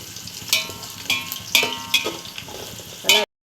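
Onions sizzling in a pan and turned with a spatula while being browned for chicken biryani: about six sharp scraping strokes at an uneven rhythm over a soft continuous frying hiss, close by, ending abruptly, with no speech.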